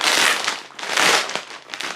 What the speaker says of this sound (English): let's go ahead and open up the clear plastic bag packaging